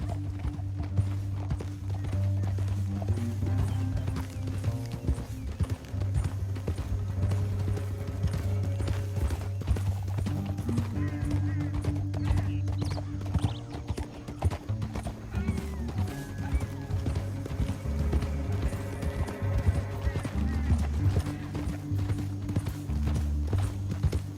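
Horse hooves clip-clop in a steady galloping rhythm, loud and continuous, with an occasional whinny over a low rumble, from the video game Red Dead Redemption 2.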